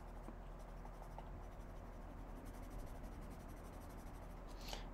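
A charcoal pencil scratches across a disposable wooden paper place mat, giving a soft, continuous scraping texture that holds steady throughout, close and quiet, with a faint brighter stroke near the end.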